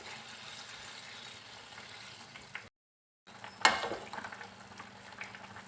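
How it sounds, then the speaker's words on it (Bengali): Water poured into a pot of squash curry and stirred, a steady soft bubbling simmer broken by a brief silent gap, then a louder splash and liquid swirl. "এবার এর মধ্যে দিয়ে দেব জল। জলটাকে একটু মিশিয়ে দেব ভালো করে।"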